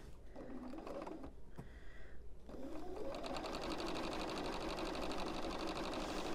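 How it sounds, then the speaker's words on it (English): A sewing machine stitches quilt pieces together for an autumn postcard quilt, starting with a few short bursts before settling into a fast, steady close-up whirring run. "my machine wants to sew without me"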